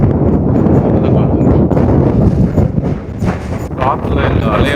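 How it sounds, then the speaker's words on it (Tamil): Strong seaside wind buffets the microphone in a loud, continuous roar with gusty swells, while a voice talks underneath it. "சரியான காற்று."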